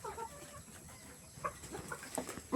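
Chickens cluck softly close by, scattered short clucks and calls from several birds over a low background rustle.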